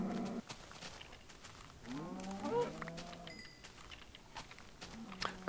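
Cows in a blocky sandbox game give a few moos, one long wavering call in the middle and a shorter one near the end, moderately loud against a quiet background.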